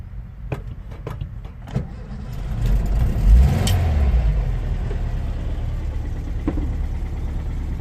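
A bus engine idles steadily at close range in the early morning, a low continuous rumble that swells briefly around the third second, with a few sharp clicks early on and no talk.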